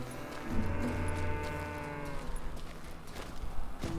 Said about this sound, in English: Moo cow.